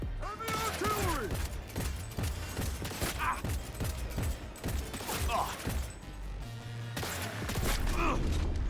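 Heavy gunfire erupts in the Cyberpunk video game, rapid bursts and crashing impacts pounding steadily throughout, loud and close, with some shouted voices mixed in.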